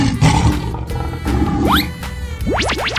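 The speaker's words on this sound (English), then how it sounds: "Lion." A lion roars in a 3D animal slide video game, a rough growling roar over busy game sounds, followed by sweeping rising tones, loud and close.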